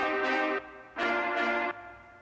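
Trumpets in an orchestral music production play bright, brassy sustained notes in two pairs of swelling phrases with a short gap between them, rich in overtones and heard without any voices.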